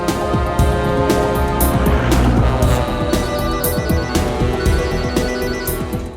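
A telephone ringtone plays steadily, a bright melodic tone pulsing in a regular repeating pattern, close and fairly loud.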